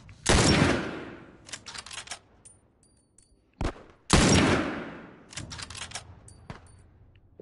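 Gunfire in The Last of Us game, two loud bursts of rapid shots, each with a rolling echoing tail, separated by scattered single cracks and clicks, with no talking.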